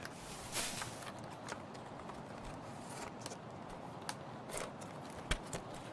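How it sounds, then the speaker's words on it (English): Pistol shrimp in the Caribbean Sea snap underwater in dense, irregular sharp clicks, scattered over a constant crackling background hiss with a few louder pops standing out. "The pistol shrimp, one of the loudest animals on Earth."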